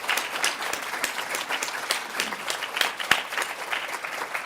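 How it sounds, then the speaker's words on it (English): A ceremony audience claps at a student scholarship celebration, a dense, lively spread of hand claps with a few sharper individual claps standing out, continuing steadily for several seconds with no talk. "let's just give a round of applause for everyone that we're thanking."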